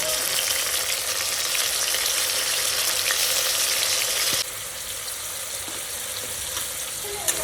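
Tomato and onion sizzle and fry steadily in a pan for Mysore-style biryani, a loud continuous hiss that drops slightly in level partway through with a few faint stirring clicks.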